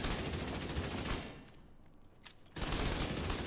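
Rapid, high-rate automatic gunfire in The Division 2 video game, a dense continuous burst that drops away for about a second before resuming at full loudness.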